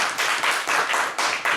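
Scattered clapping with a few thumps of a table being banged, in short bursts from a small group voting by cheering at a comedic 24-hour play event.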